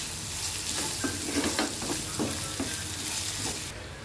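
Spice paste sizzling lightly in a pan for a potato fry, a steady hiss of frying broken by a few soft stirring scrapes, close and continuous with no talk.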